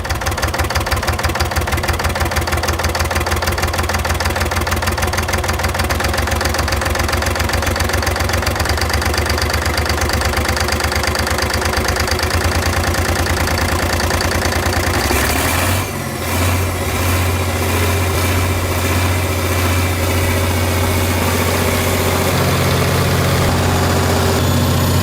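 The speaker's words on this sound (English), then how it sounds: "The six-cylinder Alice Chalmers engine growled through clouds of smoke" Six-cylinder Allis-Chalmers diesel engine running loud and close, a steady rapid throbbing rumble with a rhythmic knock that shifts in pitch partway through and carries on unbroken.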